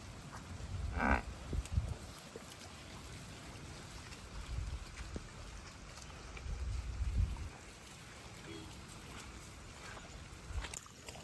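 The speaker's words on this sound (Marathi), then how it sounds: "गाईज अशा असतात गावच्या म्हशी" Village water buffaloes low with deep moos among wet green post-rain fields, a few calls spread across the stretch with soft outdoor ambience between them.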